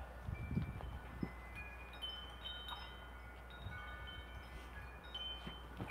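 Strong outdoor wind blows steadily against the microphone among trees, a continuous rushing roar with a few louder buffeting gusts near the start, no voices.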